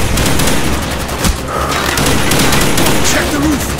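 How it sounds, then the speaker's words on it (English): Rapid bursts of gunfire and explosions in the Call of Duty Black Ops video game, a loud, continuous battle din with shots, booms and crashes, shouted voices mixed in. "We're taking fire!"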